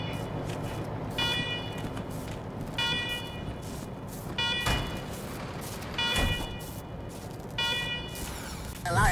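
An alarm rings in the game Wasteland 3, a pulsing electronic tone that repeats in short bursts roughly every second and a half over a low rumbling background, with no speech.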